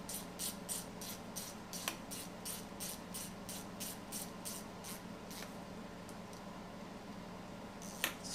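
A 1/4 inch drive ratchet torques bolts on a BMW E90/E60 engine, its pawl clicking in a quick, even string of bursts for about six seconds, then a pause and one more short burst near the end over a steady low background hum.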